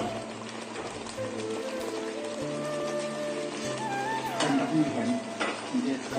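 Eggplant curry masala with added water is stirred in a pan, a soft wet sloshing and scraping under background music, growing a little louder toward the end.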